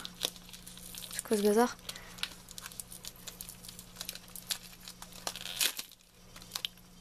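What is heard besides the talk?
paper packet being torn open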